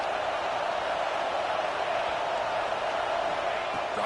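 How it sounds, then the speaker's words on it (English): A stadium crowd at an Ohio State versus Michigan football game roars on third down, a dense, sustained wash of distant cheering and noise that stays level throughout, with no clear voices standing out. "Third down, and the crowd really getting into it."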